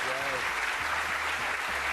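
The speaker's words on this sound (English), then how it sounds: "A well-deserved round of applause for that young man." Studio audience applause for a young darts player on a TV game show, a steady even wash of clapping with a voice talking faintly over low tones underneath.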